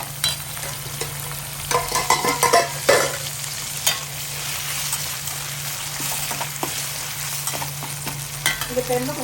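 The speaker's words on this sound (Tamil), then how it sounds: "தாளிக்கிறது எண்ணெய், கடுகு, வெந்தயம், காஞ்ச மிளகாய் போட்டு தாளிச்சிட்டு ஒரு வெங்காயம் போட்டு 2 பச்சை மிளகாய் போட்டு" Onion and green chilies sizzle in hot oil tempered with mustard seeds, fenugreek and dried red chilies for home-style sambar. Loud, close crackling comes with repeated scraping stirs and spatters in irregular bursts.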